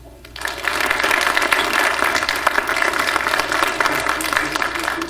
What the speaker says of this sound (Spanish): Para ello les pido un aplauso para ustedes mismos.